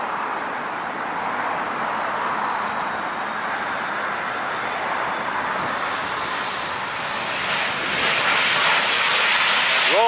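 An airplane with Rolls-Royce engines at LAX, a broad roaring engine rush that holds steady, then swells louder toward the end as the aircraft comes nearer, with no talk.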